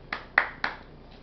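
Three crisp hand claps in quick succession, close and fairly quiet, followed by a fainter fourth clap.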